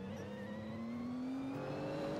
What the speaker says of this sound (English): I hear the traction control kicking in.